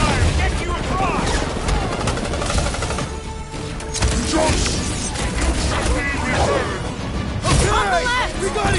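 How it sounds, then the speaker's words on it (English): Sustained cover gunfire from the Guardians of the Galaxy video game, dense rapid bursts and crashing impacts running loud and continuous throughout, with voices and game music layered over the shooting. "I'll lay down some cover fire to get you across!"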